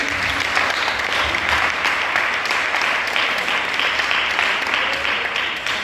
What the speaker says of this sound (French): Encore une fois, applaudissements pour le Seigneur